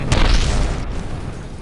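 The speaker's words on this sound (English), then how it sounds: "Explosion" Explosion in the video game Kerbal Space Program, a single loud, close boom that rumbles and fades over a second or so.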